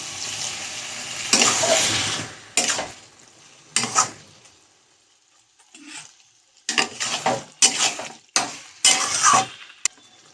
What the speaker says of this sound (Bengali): অল্প করে একটু জল দিচ্ছি